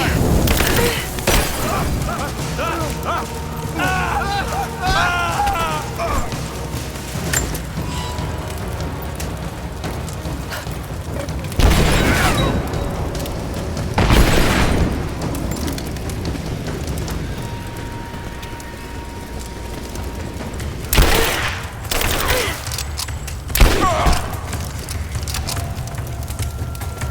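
Gunfire and explosions in the video game Rise of the Tomb Raider, with a dense rattling barrage under game sounds and several loud booming blasts breaking through, alongside voices.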